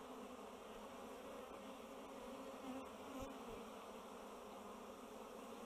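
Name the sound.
honey bees buzzing in hive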